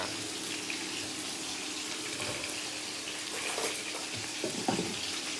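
Chili peppers fry in a pan with a steady, dense sizzle and hiss throughout, plus a few louder crackles and stirring scrapes near the end, with no voices.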